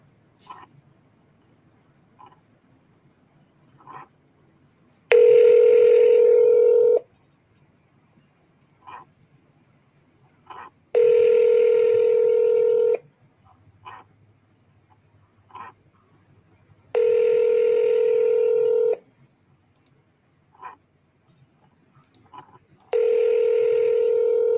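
Telephone call tones on a line while calling a number: four long, steady tones evenly spaced several seconds apart, with faint clicks in the quiet gaps between them and no talking.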